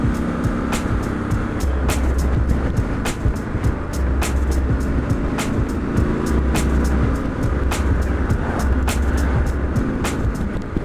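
A 2019 Triumph Scrambler 1200 XE motorcycle on a test ride, its engine droning steadily and loudly throughout with wind noise and a repeating low pulse, with no pauses.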